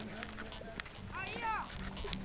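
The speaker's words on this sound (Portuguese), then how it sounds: "Vai, César, olha o cavalo." A horse walks with soft hoof clip-clops, fairly quiet and close, while people talk over it.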